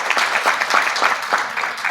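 Audience applause at a community event on child welfare, a brief burst of many hands clapping in quick uneven pulses, moderately close.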